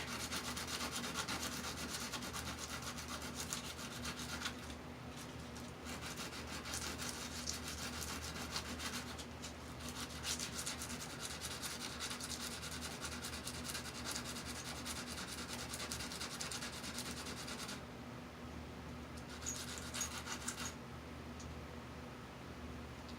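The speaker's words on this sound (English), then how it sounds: "We'll sand the terminal so we get a good solder connection here." A solder terminal on a Sony ST-JX411 tuner gets sanded with continuous fine, soft rubbing and scratching strokes, quiet and close, with brief pauses between passes and no talking.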